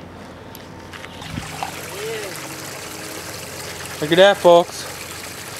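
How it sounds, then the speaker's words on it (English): Water running through a newly installed backyard pond filtration system, a soft steady trickle and flow underneath someone talking nearby. "that's the filtration. It's running through"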